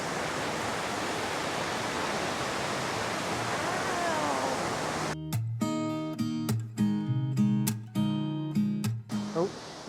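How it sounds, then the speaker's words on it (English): A steady, broadband rush of a Norwegian waterfall, heard from its top, fills the air, joined halfway through by loud, clattering bursts close by. "it looks like this is actually going to be the very top of the waterfall."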